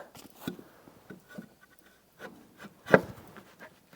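Pencil or marker scratching across a wooden board being marked for cutting, a few soft rubbing strokes with one sharper scrape near the end, close and quiet.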